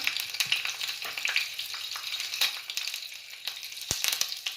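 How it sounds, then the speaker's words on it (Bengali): Curry leaves, mustard seeds and urad dal sizzle in hot tempering oil for a chutney, producing a continuous bright crackle with scattered sharp pops and one louder burst near the end, no voices. "কারি পাতা সর্ষে আর একটু উড়ার ডাল বা বিউলির ডাল ফড়নে দিলাম"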